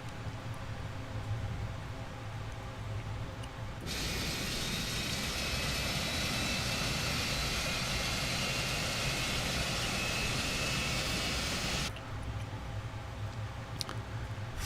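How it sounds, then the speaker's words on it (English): Jet engine one on an aircraft spooling up during a start sequence, a sudden broad roar with a rising whine that holds steady for several seconds before cutting back to a low cabin hum. "Engine 1 start selector set to start."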